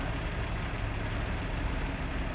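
Car engine idling in a Prohibition-era setting, a steady close low rumble that continues without a break and with no talk.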